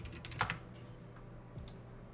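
Computer keyboard keys tapped in a few quick, light bursts, close to the mic and fairly quiet against a low steady hum, with short pauses between strokes.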